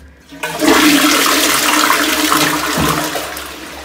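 A toilet flushes in Vienna, Austria: a loud rush of water bursts in after a short quiet moment, then roars steadily and slowly eases off, with no other sounds.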